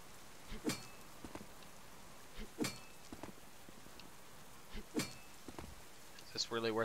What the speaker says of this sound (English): I didn't ask for this rain.